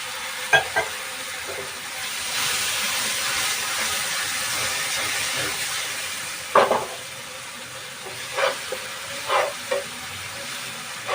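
Low, steady sizzle of a spice paste for egg ghotalo cooking in a pan on low heat, punctuated by several short scraping stirs and clinks.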